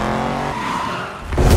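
A Nissan Terrano engine revs briefly, the note dipping and then rising again into a louder surge, close and alone with no talk, seemingly unable to climb past about 3000 rpm.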